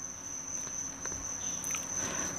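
Insects chirp on a mountainside in the rainy season, a steady high, shrill cricket trill that runs unbroken and close over a soft outdoor background.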